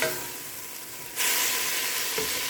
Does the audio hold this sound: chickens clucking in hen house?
no